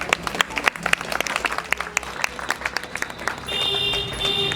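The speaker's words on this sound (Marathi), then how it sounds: "मंचावर उपस्थित प्रमुख पाहुणे यांचं सगळ्यांनी टाळ्या वाजवून स्वागत करावं" A crowd at a Republic Day celebration in a clinic claps to welcome the chief guests, with brisk, closely spaced handclaps that blend into a steady applause while a faint tone rises near the end.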